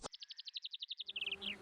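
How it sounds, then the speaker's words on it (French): A cartoon bee gives a rapid run of about twenty buzzy pulses that slide downward at the end. Over it comes a soft rising background. "C'est juste une abeille."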